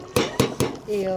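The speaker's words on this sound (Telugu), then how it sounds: "మా పిల్లలు బయట సౌండ్లు చేస్తున్నారు గిన్నెలు పడేస్తున్నారు" Three sharp metallic clanks of pots or dishes dropped by children outside, hitting a hard surface in quick succession, followed by a ringing tone.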